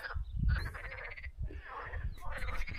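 Frogs croak in a pond near Greek ruins on a hike, repeated rasping croaks in bursts close by, with low thumping noise underneath and no talk.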